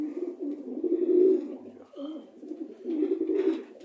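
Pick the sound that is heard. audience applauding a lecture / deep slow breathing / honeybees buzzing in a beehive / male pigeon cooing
male pigeon cooing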